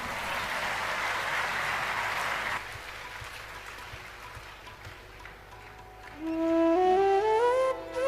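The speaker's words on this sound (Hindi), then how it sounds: "एक बार बजाइए ताली इस पर।" Applause from an audience at a Hindu devotional discourse on Kashi, a broad wash of clapping that fills the first few seconds and then fades, with musical tones rising near the end.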